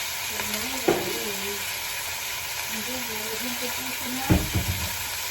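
Canola oil sizzles steadily in a pan, a continuous hiss with a couple of sharp stirring clatters, while a voice talks over it.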